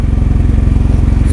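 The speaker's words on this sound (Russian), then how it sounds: "Все, заводится с полтычка, ласточка." A heavy Japanese motorcycle's engine idles loud and close, a steady low-pitched throbbing pulse with fast regular firing beats and no other sounds.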